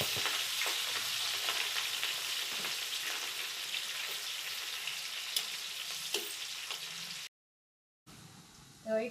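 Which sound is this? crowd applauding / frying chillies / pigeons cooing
frying chillies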